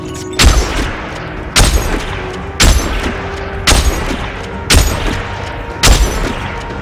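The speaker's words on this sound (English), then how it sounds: "So here is just the base reload and firing speed." A weapon in the game Dead Space 3 fires and reloads in a steady cycle: six loud, heavy shots roughly a second apart, each followed by mechanical clatter before the next.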